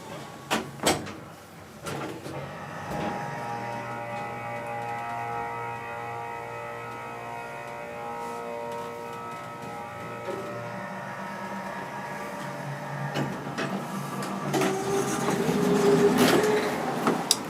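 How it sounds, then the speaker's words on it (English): Baxter and Sons hydraulic elevator at Lakewood Village, with a few door clunks at the start followed by a steady low hum and whir of the running car, building toward the end with more clatter. "It's a Baxter and Sons elevator."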